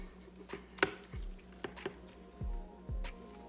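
Beans and beef stir fry being mixed in a pan, giving a few soft wet squelches and scraping knocks spaced irregularly, close and fairly quiet, with no voices.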